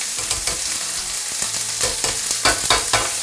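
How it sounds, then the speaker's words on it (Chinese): Asparagus, rosemary and garlic frying in butter in a pan with steak, a loud, steady close-up sizzle with crackling pops and bursts of stirring or turning. "给它炒一下，加上黄油给它炒一下。"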